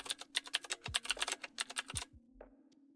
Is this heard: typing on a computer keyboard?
yes